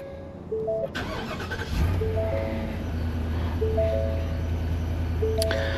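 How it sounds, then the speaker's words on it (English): A 2023 Ford F-250 XL 6.8L V8 pickup engine cranks and catches into a deep, steady idle rumble, while high electronic chime tones beep repeatedly. "insert the key and get this truck started."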